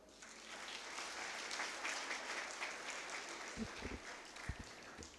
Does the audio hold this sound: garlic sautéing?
no